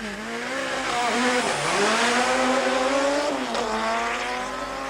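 A four-wheel drive Toyota Conquest rally car leaving the start line at a 1988 rally, its engine revving high and loud, dipping briefly between gear changes before climbing again, with no voices.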